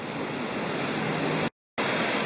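Water rushes steadily from a waterfall and creek beside a backcountry campsite in North Carolina's Lost Cove Wilderness, a dense, constant roar that drops out completely for a moment before resuming. No voices.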